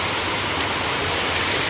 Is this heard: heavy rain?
yes